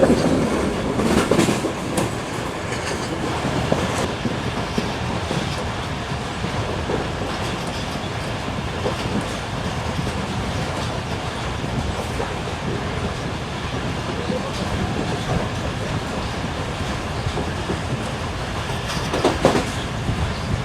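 Karakoram Express running on the rails: a steady, broad rolling roar with soft clickety-clack of wheels, continuous and fairly close, with occasional faint rattles and no clear voices.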